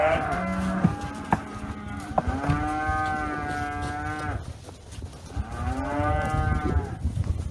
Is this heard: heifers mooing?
yes